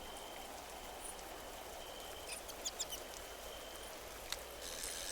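Steady rain falls in the cozy video game Moonlight Peaks near Silvervale Lake, a constant even hiss throughout with a few faint light ticks and clicks over the top.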